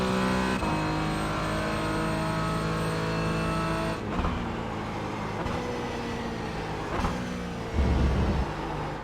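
A Porsche Cayman GT4 race car engine in iRacing at Suzuka drones steadily, with brief gear-change dips and revving pushes as it accelerates, heard alone and fairly loud throughout.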